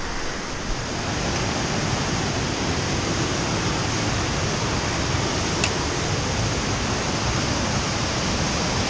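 Loud, steady rush of a mountain stream at Cedar Run in Shenandoah's White Oak Canyon, a broad unbroken roar of water heard close up for the whole stretch with no talk over it.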